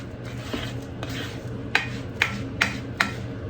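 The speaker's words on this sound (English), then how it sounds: "I'm going to stir it a bit more here just to be safe, make sure that it's all well coated with the butter" Rice pilaf being stirred in butter in a pan, with a soft scraping and sizzle under a handful of sharp spoon taps on the pan rim, spaced about half a second apart.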